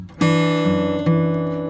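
Fingerstyle guitar plays a short boom-chuck passage: a plucked bass note and chord ringing out, then a second strum about a second later, clear and close with no talk.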